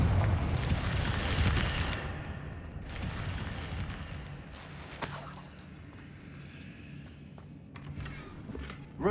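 Fiery blasts of the Confringo spell in Hogwarts Legacy, several sharp booming bursts with rumbling tails spread across the clip, set against a low, continuous in-game ambience.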